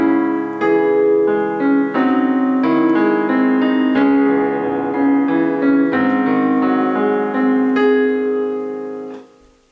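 Solo piano plays part 2 of an Over the Garden Wall song: a clear melody over left-hand chords in a steady, moderate rhythm, close and alone, fading away at the close.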